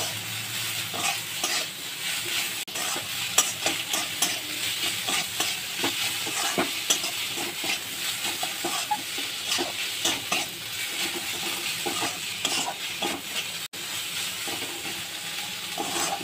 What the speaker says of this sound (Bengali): এবার আমি এর মধ্যে দিয়ে দেব সেদ্ধ করা মোচা। এটাকে আমি হালকা করে কষিয়ে নেব।